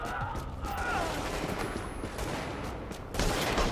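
Automated turrets fire in the shooter game Tom Clancy's The Division, a rapid, continuous rattle of gunshots at moderate volume that swells a little louder near the end.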